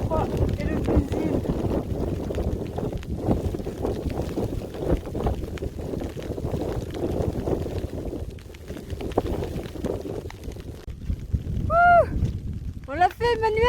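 Gusty wind buffets the microphone on the Mont Lozère summit in the cold, a low rumbling roar that rises and falls, with a few brief higher-pitched voice exclamations near the end.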